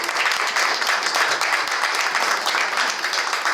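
A crowd claps steadily and fairly loudly for the director after he is given a memento and a tulsi plant, dense continuous applause filling the whole stretch without any pause.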